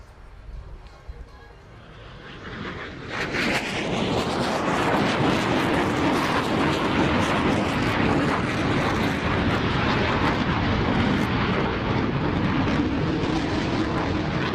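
An Italian Air Force Tornado IDS jet roars past at an air show with full afterburner, the loud rushing thunder swelling sharply after a quieter start and then holding a sustained, broad, powerful blast.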